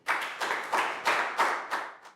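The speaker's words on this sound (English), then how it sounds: "Big round of applause from everyone." A class of children applauds after a maths lesson, claps coming in short uneven bursts of several seconds' rhythm, fairly close and clear with no talking over them.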